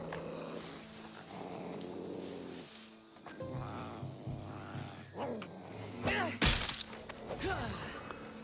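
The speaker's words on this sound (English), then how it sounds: "there's like a lion or like a probably a leopard in here. Some kind of cat that's making that noise." A big cat, a lion or leopard, growls and purrs in Assassin's Creed Odyssey, rumbling low calls that come in bursts among game sounds, with a sharp hit midway and someone talking over parts of it.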